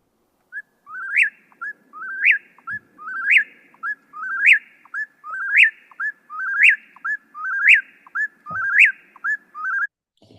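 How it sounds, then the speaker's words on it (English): Whippoorwill song, a clear whistled three-part phrase repeated about nine times in steady rhythm, moderately loud against a quiet night background with a faint low thump near the end. "I had so many whippoorwills always singing outside of my window"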